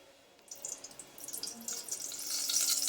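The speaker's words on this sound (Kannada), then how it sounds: "ಇವಾಗ ಎಣ್ಣೆ ಹಾಕ್ತೀನಿ ಎಣ್ಣೆ ಸ್ವಲ್ಪ ಜಾಸ್ತಿ ಬೇಕು" Cooking oil poured into a pan, a faint trickling liquid stream that begins after a brief quiet moment and grows steadier and slightly louder as it continues.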